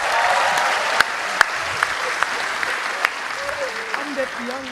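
A crowd at a youth political gathering applauds with dense, sustained clapping. A speaker's voice carries over it as the clapping gradually thins.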